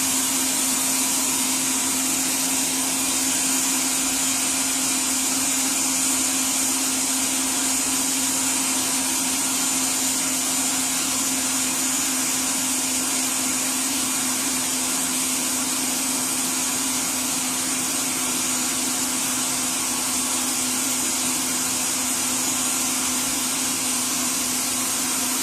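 Electric mixer with a whisk beating hot syrup into a marshmallow mixture, a steady loud motor whir with a constant hum, running unchanged throughout.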